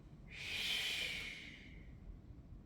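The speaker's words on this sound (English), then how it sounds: "Inhale and exhale" A single slow, breathy inhale and exhale during qigong breathing practice, a soft airy hiss that swells and then fades, close and alone with no talk.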